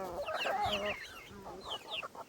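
A flock of chickens clucks in a farmyard where turkeys are also kept, the calls close and busy, overlapping in quick bursts with a brief lull in the middle.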